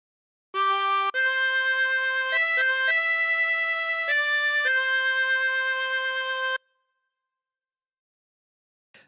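Sixteen-hole tremolo harmonica playing a phrase of Amazing Grace, several sustained wavering reedy notes in a slow sequence, close and alone, ending in silence.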